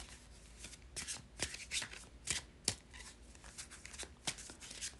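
A tarot card deck is shuffled by hand during a reading, giving repeated crisp riffling bursts. The close, quiet shuffles come in an irregular rhythm, with no talk.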